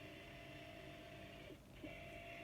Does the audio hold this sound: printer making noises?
yes